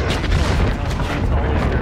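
A deep, rumbling airstrike blast in a combat video game, a heavy sustained boom that fills the whole moment, loud and close with no distinct separate impacts.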